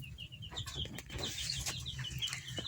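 A young rooster clucks in short, uneven bursts amid chirping and rustling, fairly faint with a steady background of bird noise.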